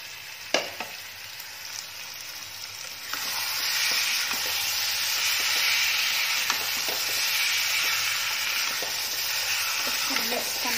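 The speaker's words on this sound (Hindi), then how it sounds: "हम लोग जो पनीर और आलू फ्राई करके रखे थे इसको ऊपर से डाल देंगे" Paneer and potatoes drop into a pan of hot masala, setting off a sudden loud sizzle that swells into steady, close frying hiss with scattered stirring clicks and scrapes, no voices.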